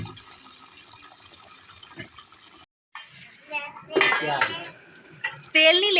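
Dishes and pots clatter and clink while being washed under running water from a tap, close by, with brief louder scrapes and a voice speaking at times.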